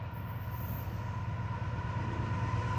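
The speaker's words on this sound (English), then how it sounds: "Here we got a train CSX coming" A CSX M575 freight train with one locomotive and two mid-train DPUs runs southbound on track 2. A steady, heavy rumble of rolling wheels and a faint high squeal carry throughout at fairly close range.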